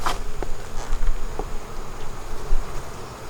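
Honeybees drone in a steady, dense buzz around an open beehive, with individual bees passing close to the microphone now and then; no voices are heard.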